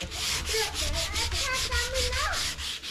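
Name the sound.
sanding a surface by hand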